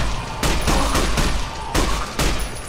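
Bursts of rapid video game gunfire, several short volleys of loud, sharp shots spaced across a couple of seconds, close and dominant with no talking over them.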